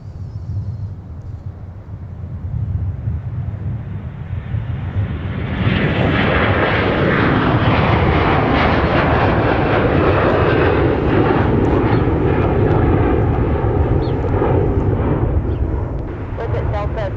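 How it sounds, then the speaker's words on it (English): A Boeing 767 jet at Minneapolis–St. Paul (MSP) airport swells into a loud, sustained roar after a quieter rumbling start, and the heavy engine noise holds to the end. Faint voices sit underneath. "there goes our 767 to Atlanta"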